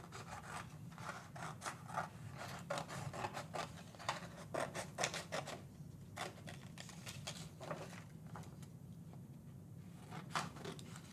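Scissors cutting paper strips for a woven placemat, with a steady run of sharp, close snips and rustling paper strokes repeating over about eleven seconds, with no talking.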